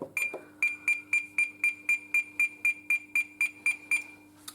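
A GENT fire alarm panel runs a display test, sounding a rapid series of about fourteen evenly spaced, high-pitched electronic beeps, clear and close with no voices.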